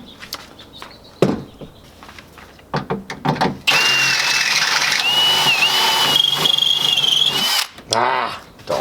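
A power tool sets rivets or nutserts while a hatch is being installed. Sharp clicks and short bursts come first, then a sustained, loud whirring drive with a squealing whine. The run cuts out, and one more brief burst follows.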